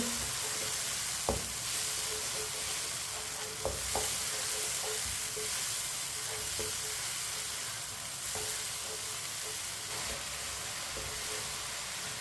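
Chopped tomatoes and green chillies sizzle steadily in a hot pan for tinday sabzi, a continuous close frying hiss broken by occasional spoon clinks and stirring scrapes, with no voices.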